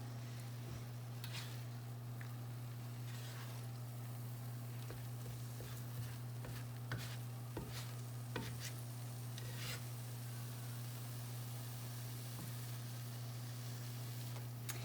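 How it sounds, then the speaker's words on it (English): Scrambled eggs being turned over in a frying pan, a soft steady sizzle with occasional scraping clicks, quiet under a constant low hum, no talk. "I'm just going to keep turning them over so that the top gets cooked too."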